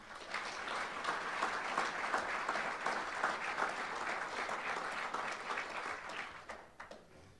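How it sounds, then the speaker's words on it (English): Sustained applause from an audience at a college athletic hall of fame induction ceremony, steady and full for several seconds before thinning out at the end. "let's give a warm round of applause to our distinguished alumni, Mr. Paul Archie."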